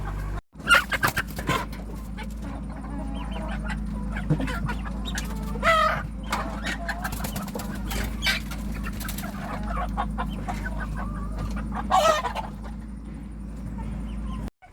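Poultry cluck and shuffle in a pen at a steady, moderate level over a low background hum, some of them hens weakened by leg problems and being given medicine.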